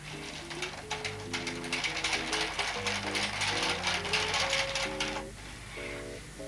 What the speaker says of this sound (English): Knit the main colour stitches by taking the carriage across.